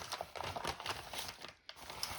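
A paper mail envelope being torn open and handled, close-up crinkling and rustling with a short tearing pull and a brief pause near the end.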